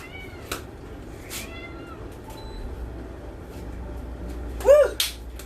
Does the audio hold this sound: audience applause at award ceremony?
no